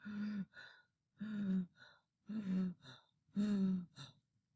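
A voice imitates heavy panting: four loud, rasping breath bursts, each a long gasp followed by a shorter one, in a steady rhythm with silent gaps.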